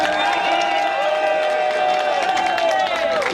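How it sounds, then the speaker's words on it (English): A crowd at a Yemeni-American Day parade in New York claps and cheers loudly and continuously. Whoops and shouting voices rise over the steady applause. "let's give a round of applause to my brother,"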